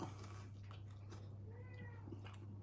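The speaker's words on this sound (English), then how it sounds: "My cat is really annoying me right now." A house cat meows faintly in the background, giving a few short, soft calls over a steady low hum indoors.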